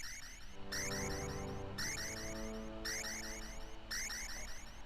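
Time-running-out warning in Super Castlevania IV on the SNES: a rapid, repeating electronic beeping pattern cycles about once a second over game music, steady and fairly faint.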